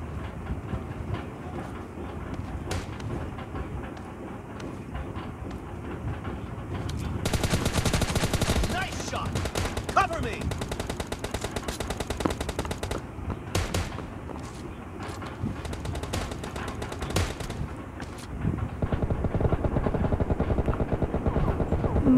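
Rapid gunfire from a Kar98 bolt-action rifle and an M416 assault rifle in a PUBG team deathmatch on the Ruins map, with dense overlapping shot bursts that swell mid-clip and keep rattling on without any talking.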